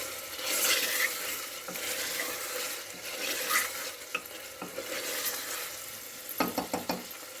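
Goat meat for biryani sizzles and fries in a pan while a utensil stirs and scrapes it steadily, with a few sharper clinks of metal near the end; close and moderately loud, no talking.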